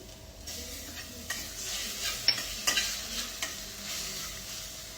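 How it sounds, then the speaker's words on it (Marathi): Ginger-garlic paste sautéing in hot ghee for Punjabi chole masala, giving a steady soft sizzle with a few sharp ticks and scrapes of stirring, close and alone. "2 चमचे आलं लसूण पेस्ट मी परतून घेतली"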